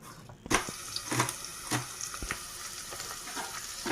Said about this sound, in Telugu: ఉల్లిపాయలు అయితే కట్ చేసి ఇది బాగా వేయించుకుని మగ్గించుకుందాం